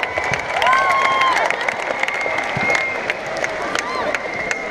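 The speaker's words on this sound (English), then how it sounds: "Let's give them a round of applause." Audience clapping and cheering at an opening ceremony for a junior girls' national sports event, steady dense applause filling a large hall with scattered whistles and whoops throughout.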